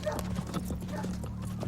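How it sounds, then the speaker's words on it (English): Horse hooves from the 1999 film Ravenous clip-clop steadily at a moderate distance, with low voices murmuring over the hoofbeats. "I hear horses."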